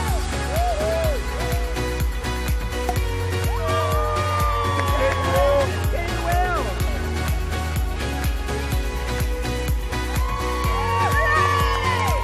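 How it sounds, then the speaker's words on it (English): Crowd outside the hospital cheering and whooping at news of the royal baby's birth, a dense continuous roar with scattered shouts and whistles, heard through ongoing chatter. "You can hear them cheering"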